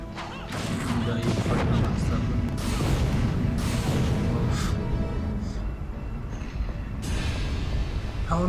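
Explosions from the 1999 Nintendo 64 video game Castlevania: Legacy of Darkness during a boss fight, a dense, continuous stretch of booming crashes and thuds that stays loud throughout, with a voice talking over it.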